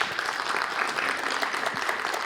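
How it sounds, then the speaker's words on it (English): Steady, dense hand clapping from an audience at a college mental health summit, filling a short burst without speech. "Hand clap for y'all, please, first of all."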